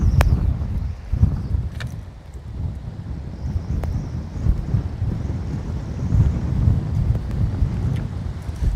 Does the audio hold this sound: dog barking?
no